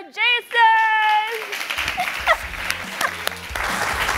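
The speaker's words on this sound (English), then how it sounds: "Let's give a round of applause for Jason!" A studio audience applauds for Jason Ho on a talk show, a brief tonal sting first, then a sustained clapping wash with a voice speaking over it.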